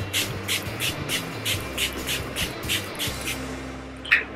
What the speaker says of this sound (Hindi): तो इसको टोनिंग करने के लिए मैं अपने फेस पर जस्ट स्प्रे कर रही हूँ।